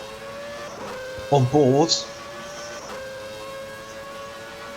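A Williams race car with a Renault engine laps the Canadian Grand Prix circuit in a racing video game, its high steady engine whine drifting in pitch, with a brief louder burst midway and a commentator speaking.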